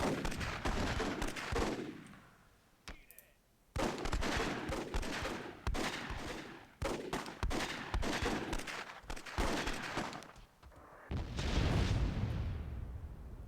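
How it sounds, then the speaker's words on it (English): Repeated bursts of gunfire and blasts from a Myth II: Soulblighter battle in a WWII scenario, with short dense volleys separated by brief gaps and a big booming explosion near the end. "Big explosion there."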